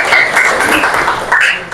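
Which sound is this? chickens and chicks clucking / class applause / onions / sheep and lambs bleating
class applause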